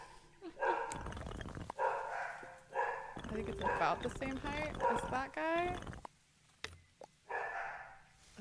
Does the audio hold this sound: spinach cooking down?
no